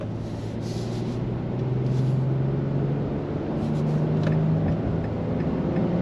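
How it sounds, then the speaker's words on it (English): A 2025 Nissan Frontier V6 truck engine runs smoothly from inside the cab, giving a steady low hum with some road rumble that holds evenly throughout. "The engine is very, very smooth. It's not coarse at all."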